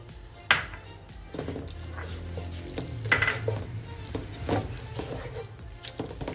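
Grated carrot halwa with khoya and nuts is roasted and stirred in a pan, giving a soft sizzle under repeated metallic spatula scrapes and a few sharp pings off the pan rim, nearby and without speech.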